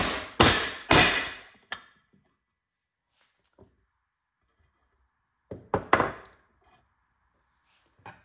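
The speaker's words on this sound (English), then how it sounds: "We're gonna use our seal driver. I'm just gonna drive this down. I'm gonna hit it evenly until it sits down." Seal driver struck with a hammer to seat a Ford FE timing cover seal: three sharp, loud knocks in quick succession, a pause with a faint tap, then two or three more firm hits close to the mic.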